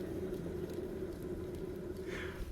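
A boat trailer wheel spins on a worn bearing, giving a steady low grinding rumble with a persistent droning hum, faint and continuous throughout, with a brief scraping swell near the end.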